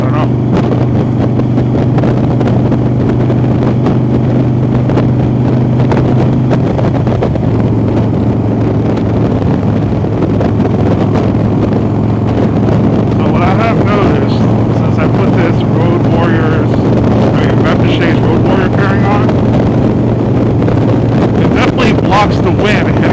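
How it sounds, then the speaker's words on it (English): Wind buffets a rider on a moving motorcycle, a loud, continuous rushing roar with low engine rumble beneath it and irregular gusty thumps against the microphone throughout. "The wind hitting my chest"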